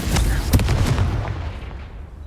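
A Confringo blast spell from the video game Hogwarts Legacy bursts out as a loud explosive boom followed by a rumbling tail that fades away.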